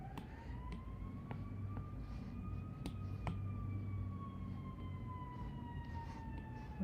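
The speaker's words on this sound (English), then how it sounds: "Sorry about the siren if you can hear that in the background." Wailing siren of an emergency vehicle, likely a fire truck, passing through a city street outside, a steady rising and falling tone heard moderately loud in the background over low traffic rumble.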